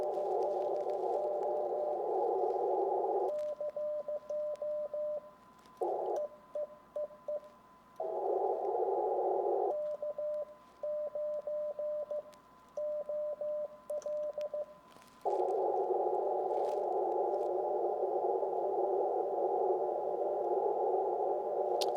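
Morse code CQ POTA call from a park activator at about 25 words per minute, heard on an Icom IC-7300 Mark II ham radio: a loud steady tone broken into dits and dahs, with long unbroken carrier stretches.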